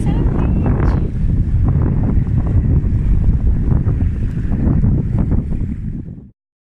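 Ocean waves at Hatenohama beach on Kumejima, Okinawa, a steady broadband roar of surf heavily mixed with gusty wind buffeting the microphone, continuous and loud, fading out at the end.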